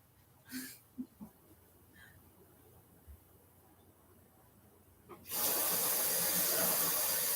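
Paint brushes are rinsed under running water, a few faint clicks and clatters first, then a tap gushing loudly and steadily for the last couple of seconds.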